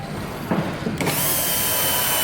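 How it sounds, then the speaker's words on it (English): A small 10-amp electric screwdriver drives a screw into joinery wood, a short whirring burst that rises into a steady, close, continuous motor hum. "Now you don't need a high-powered screwdriver to put these in. This is just a little 10-amp screwdriver."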